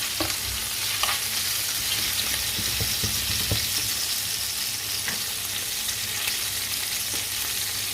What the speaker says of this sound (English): Scrape all those juices from the bottom like that.